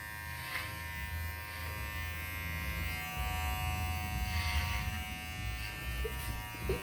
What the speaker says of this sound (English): I'm going to go in and just do a nice straight cut, clipper closed.